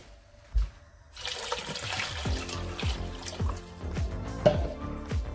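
Tap water runs into a soup pot for a meatball soup with vegetables, in a home kitchen, starting abruptly after a brief knock and then flowing in a steady, splashing stream that continues throughout.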